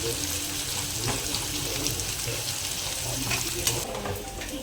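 Onion fries in a pan until browned for a Koli-style fried chutney, giving a continuous close, even sizzle with faint crackles throughout and no talking.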